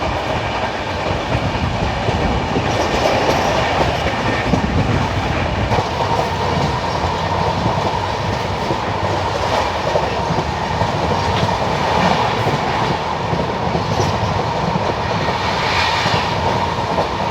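A passenger train on the Rajkot–Kanalus line runs steadily through a loop line, its loud, continuous rumble and rhythmic clickety-clack of wheels filling the interior without pause or voices.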